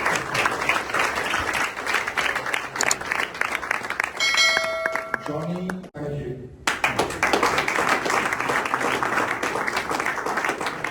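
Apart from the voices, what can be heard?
audience applause at reception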